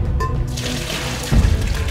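Campbell's Chunky Chicken Noodle Soup poured into a bowl, part of a huge 1.125-gallon serving: a loud close-up liquid rush with a heavy splashing slosh near the end, no talking.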